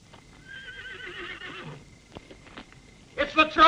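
A horse whinnies with a wavering, high neigh that fades out, then after a pause voices break in loudly near the end.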